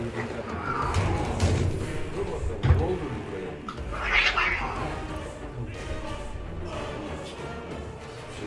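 A cat yowls and caterwauls in short, strained bursts, with a louder cry partway through, over a muffled background of room noise and a dull thump.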